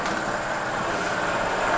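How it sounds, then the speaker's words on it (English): An air compressor runs steadily while filling, a dense constant broadband hiss and hum with no change in level, heard close and alone. "Let me just shut this door because this is still filling."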